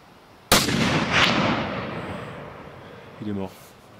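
A single rifle shot during a wild boar hunt in northern Tajikistan cracks sharply once, then rolls away in a long fading echo over open terrain, followed by a brief voice.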